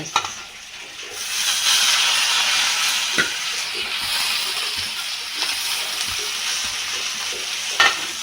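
Curry leaves, coriander and mint frying in a pan, a bright steady hiss and sizzle that swells after a quieter start, with a few soft clinks from stirring.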